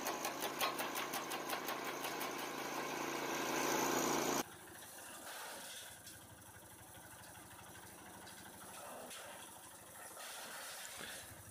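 A homemade branch shredder driven by a walk-behind tractor engine runs in a loud, rapidly pulsing mechanical drone. The sound drops sharply to a quieter, rougher engine rumble with irregular knocks that continues to the end.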